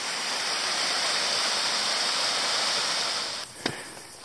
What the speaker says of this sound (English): Little dribbling side falls.